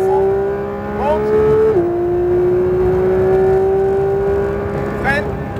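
A racing video game car's engine holds a steady high drone that climbs in pitch as it accelerates, with brief shifts and a second rising whine near the end, running continuously under a voice giving instructions.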